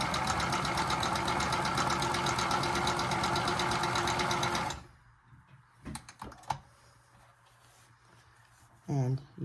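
Sewing machine stitching under foot control pedal, a loud steady rapid mechanical rattle that runs for about five seconds, then stops, leaving near silence broken by a few brief clicks and handling noises.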